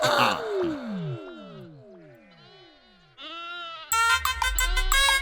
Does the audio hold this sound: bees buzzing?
no